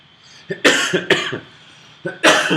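Several harsh, close coughs in quick bursts, a pair early on and another near the end, with short quiet gaps between.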